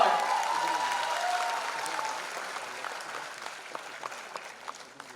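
Audience applause at a music album launch ceremony, a full burst of clapping that gradually thins out and fades, with a brief sustained tone near the start.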